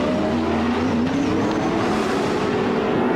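Touring race cars at the 1997 Sandown 500, their engines roaring loudly and continuously as they close up and jostle for position on track.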